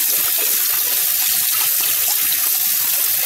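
Steady loud rush of running tap water while fish is washed to strip off the slime for Lao-style sour fish, continuous and close.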